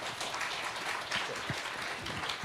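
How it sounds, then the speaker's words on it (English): Dense applause from a summit audience for panelists at the Digital Bharat Summit, a steady wash of clapping heard at moderate distance throughout the short stretch. "let's give a huge round of applause to all my fellow panelists"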